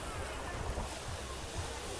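Sea waves wash onto a pebbly beach in a steady broadband roar, with low rumbling surges and some wind buffeting on the microphone, no clear voices.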